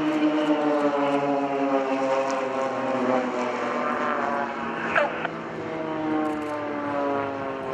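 Aerobatic aircraft engine droning loud and steady at an airshow, its tone shifting through a snap roll with strong harmonic whine, continuous for the whole stretch with no talk.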